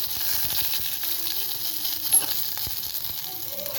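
Mustard seeds, fenugreek and green and dried chillies sizzling in a spoonful of hot oil for paruppu rasam: a steady bright hiss of frying with small pops and crackles, close and continuous.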